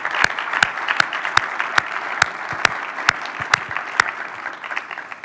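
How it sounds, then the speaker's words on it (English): Conference audience applause at a quantum technology congress plenary, a steady wash of many hands with a few sharp, close claps standing out and no talking. "So let's give them a round of applause."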